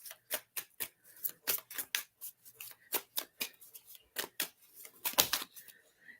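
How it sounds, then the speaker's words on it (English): Cards being shuffled and handled up close, a string of quick, irregular crisp snaps and flicks against a quiet background. "I'll just shuffle her cards until she gets there."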